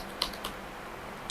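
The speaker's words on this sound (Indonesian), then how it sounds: "Kita ngetik ngawur lah buat contoh doang ya" A few light, irregular keystrokes on a computer keyboard, close and quiet, with no voices.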